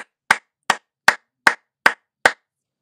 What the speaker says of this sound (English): Gotta clap it up right there.